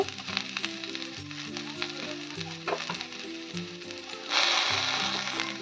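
Chicken chaap frying in a pan with turmeric and red chili powder, giving a steady close sizzle while a spoon stirs and scrapes through it, the hiss swelling louder near the end; background music plays underneath.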